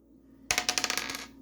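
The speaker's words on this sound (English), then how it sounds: "Alright, roll the dice." A handful of dice clatter and bounce across a hard surface in a quick rattling burst of several sharp clicks that settle within a second.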